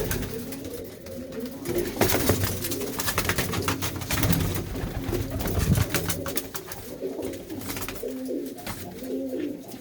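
Yellow-and-white pigeons cooing close by, with a steady, layered murmur of low throaty coos running continuously alongside faint rustling and fluttering.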